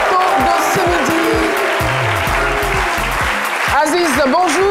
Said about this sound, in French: Merci de l'applaudir très fort jusqu'à ce qu'il regagne le plateau de ce midi